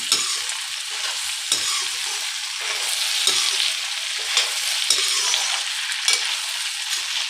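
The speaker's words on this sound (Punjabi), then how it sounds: "ਆਪਾਂ ਹੁਣ ਟਮਾਟਰ ਪਾ ਕੇ ਇਹਨਾਂ ਨੂੰ ਚੰਗੀ ਤਰ੍ਹਾਂ ਹਿਲਾ ਦਿੰਨੇ" Four or five small chopped tomatoes are stirred into okra and onion frying in a pan, a steady bright sizzle broken by repeated scraping stirs, close up and with no talking.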